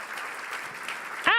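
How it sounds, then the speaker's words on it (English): Roaring audience applause at a youth fundraising gala, steady dense clapping filling the moment before a voice cuts in at the very end. "How about a big roaring round of applause for everyone thus far?"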